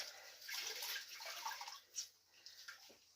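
Water washed and sloshed over freshly applied decorative plaster on concrete to rinse off dark residue, a close, soft splashing hiss with a few brief drips.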